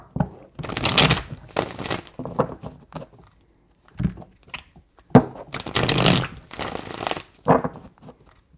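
A deck of cards is shuffled three times in quick bursts, each a crisp riffling flutter separated by short pauses and quieter handling, up close with no talk.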